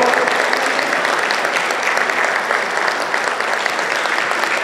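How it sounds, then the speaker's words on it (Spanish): A crowd at a panel discussion on women's political challenges applauds loudly as an award is presented to a municipal president. Thick, even clapping from many people continues throughout, close and full. "Un fuerte aplauso, por favor."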